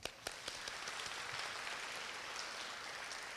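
Audience at a Korea University graduation ceremony applauding, a broad steady wash of many hands clapping throughout, with a few sharper claps at the start, fairly distant and dense.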